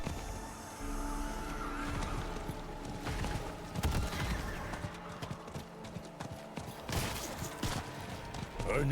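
Horse hooves clip-clopping in Diablo 4, a steady rhythmic trot under a busy mix of game sounds and impacts, moderately loud throughout.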